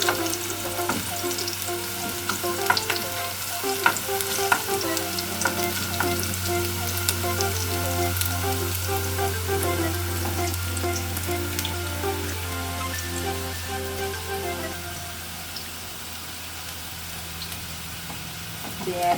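Onions frying and sizzling in a pan for a Kenyan-style egg stew, with a steady crackle and occasional stirring scrapes, close and continuous throughout, no talking.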